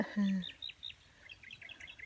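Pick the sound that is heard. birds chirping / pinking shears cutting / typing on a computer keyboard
birds chirping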